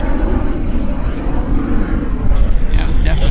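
Jet airliner on its takeoff roll at Vancouver International Airport, a loud, steady broadband roar close by that builds slightly toward the end.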